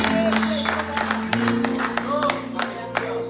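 A church congregation clapping as an offering of praise to the Lord, steady dense applause with scattered sharper claps, a few voices and a sustained musical tone underneath.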